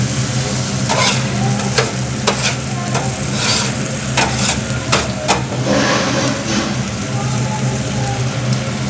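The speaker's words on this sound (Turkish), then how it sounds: "Şimdi tereyağımızı hazırlıyoruz Tereyağımız dökeceğiz. Yağımız da hazır. Kızarıyor şu anda." Butter heats and browns in a pan in a busy restaurant kitchen, producing a loud, dense, rain-like sizzle throughout, punctuated by frequent sharp scrapes and clatters of stirring.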